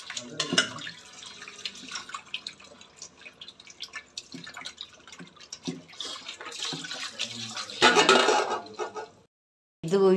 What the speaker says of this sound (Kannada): ಉಪ್ಪು ಮತ್ತೆ ಅರಿಶಿನ ಸೇರಿಸ್ಬಿಟ್ಟು ನೀಟಾಗಿ ಸ್ವಲ್ಪ ಚೆನ್ನಾಗಿ ತೊಳಿಬೇಕು ಈ ಥರ